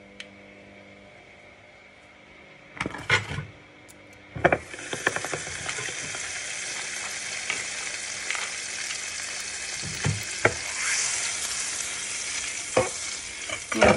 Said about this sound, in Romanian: am să topesc un pic de unt și pun un pic de boia